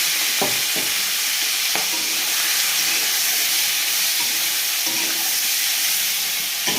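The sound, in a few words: singi fish frying in hot oil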